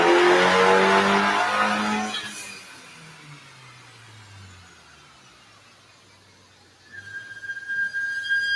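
A turbocharged Dodge Dart engine revs hard on a dyno, climbing to a loud strained howl before dropping to a low idle, then spooling back up with a rising whine and roar.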